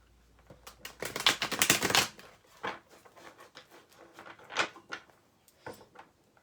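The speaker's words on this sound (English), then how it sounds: "let me get these shuffled" Tarot cards being shuffled by hand, a flurry of riffling and flicking near the start followed by scattered soft taps and slides of the deck, close and quiet.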